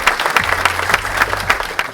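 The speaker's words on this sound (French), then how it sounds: "je voudrais qu'on les applaudisse également tout ensemble" Evening gathering audience applauding together, a burst of clapping with individual claps audible over a low hum, near and fairly loud.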